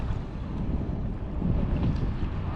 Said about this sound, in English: There's a really good breeze on this river, so there's actually some chop on it.